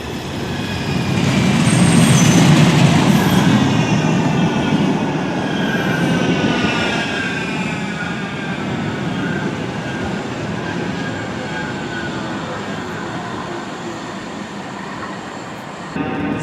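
Manchester Metrolink tram pulling away from Whitefield tram stop on the Bury Line, a loud rolling rumble that swells early then settles into a steady hum with faint wheel squeal, close by.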